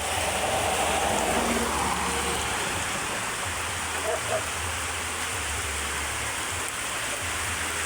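Continuous heavy rain pouring onto surfaces, a dense steady hiss with a low rumble underneath and no talking.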